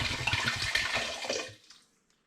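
Spring water pours into a saucepan already holding carrots, a steady close splashing rush that lasts about a second and a half, then stops abruptly, leaving near silence.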